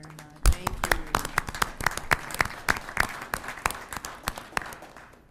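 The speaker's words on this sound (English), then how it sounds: "And I think that deserves a round of applause." Applause breaks out at a city council meeting: a dense round of clapping from the chamber audience, fairly close and steady, carrying on for several seconds without speech.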